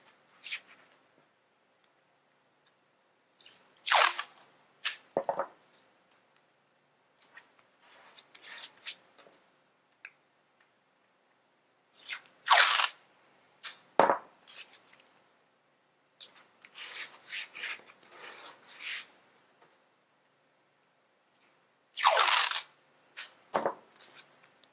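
Tape pulled and pressed onto the back of artwork on a mat: scattered bursts of sharp ripping, crinkling and rubbing, close and fairly quiet, separated by silent gaps.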